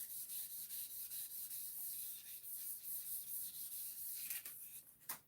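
A ZR600 motorcycle part is cleaned and polished by hand, giving a steady close hissing rub with rhythmic strokes, ending in a few light knocks.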